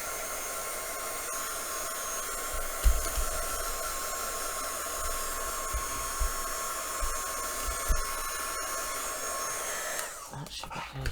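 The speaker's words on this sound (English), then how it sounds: "just touch it up with my heat gun a little bit" A heat gun dries fresh paint with a steady, loud, whooshing blower hiss that holds for about ten seconds before cutting off, with faint handling knocks underneath.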